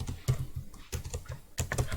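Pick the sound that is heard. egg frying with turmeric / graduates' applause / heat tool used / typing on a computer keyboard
typing on a computer keyboard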